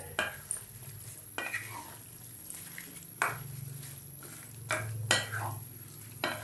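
A utensil stirring and scraping a black anchovy mixture in a pan, with intermittent clinks and soft scrapes at an irregular pace, quiet and close.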